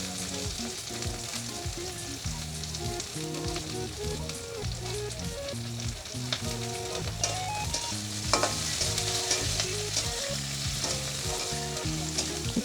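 Chopped onion and green chilli fry in hot oil, a continuous close sizzle with stirring scrapes, while background music plays throughout and no one talks.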